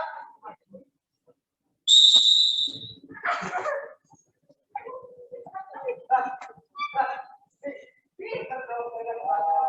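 A sharp, shrill whistle blast rings out near the start of a classroom group exercise, followed by people talking and calling out.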